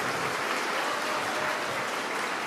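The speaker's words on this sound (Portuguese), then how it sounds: "Vamos dar uma salva de palmas para Jesus" A church congregation applauding together, a dense, even wash of clapping that holds steady throughout with no voices on top.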